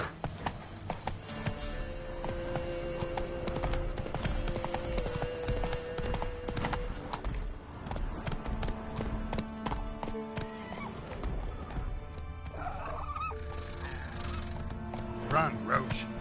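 Hooves of Roach the horse pounding in The Witcher 3, a fast repeated clip-clop carried along under game music and ambient effects, with a brief whinny-like cry and other animal calls near the end.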